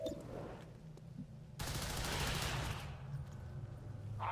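Soldiers firing guns at zombies in XCOM, with a faint shot early, then a sudden loud burst of rapid gunfire that fades out over a couple of seconds.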